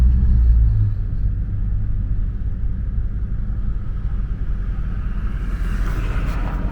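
Steady low engine rumble and road noise heard from inside a moving car fitted with a newly installed oil catch can, continuous and fairly loud throughout, with a brief heavier thump at the start and no talking.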